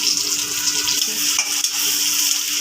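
Onion and garlic hit hot oil for tempering a lentil dal with bottle gourd and tomato, producing a loud, bright, continuous hiss close up with no talking.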